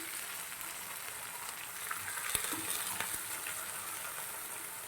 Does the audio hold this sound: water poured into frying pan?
yes